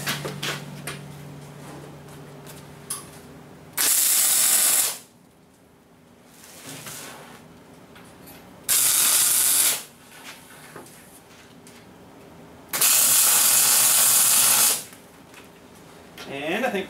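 Tack welding the side plates of a loader bucket, with three loud bursts of crackling welding hiss separated by quieter shop noise and a few faint handling sounds.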